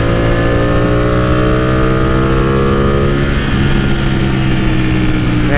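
A Ducati Panigale 899 engine on the move gives a loud, close, continuous drone, its harmonics sweeping up and down with changes in throttle and gear, with no talk over it.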